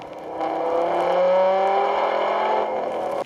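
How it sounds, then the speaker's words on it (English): A 2010 Dodge Viper ACR-X race car on track plays back as a steady, loud engine drone that holds and rises slightly in pitch for about three seconds before cutting off. "So this will actually show me racing my actual lap."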